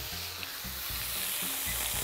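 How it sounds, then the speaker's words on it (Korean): Fatty beef brisket (chadol) sears in a preheated pan with a steady, close hiss and crackle, broken by a few soft stirring bumps, and no voices. "예열된 팬에 차돌부터 구워줄게요."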